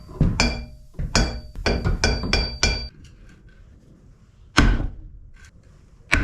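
Light hammer taps on a seized 1988 Wet Jet 432 engine: a quick run of about seven sharp, close metallic knocks, a pause, then one more tap and a final strike at the end.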